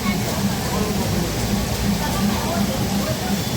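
Heavy rain falling in big drops makes a dense, unbroken hiss and patter close by, with people talking over the downpour.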